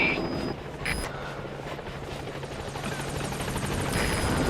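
A support helicopter arrives at a landing zone in the video game Metal Gear Solid V: The Phantom Pain. Its rotor drone is steady and fairly loud, with brief electronic tones and game effects layered over it.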